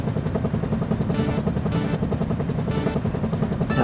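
A helicopter flying in the video game Disney Infinity 3.0, a steady close rotor thrum and engine drone with rhythmic chopping, interrupted by brief bursts of hiss.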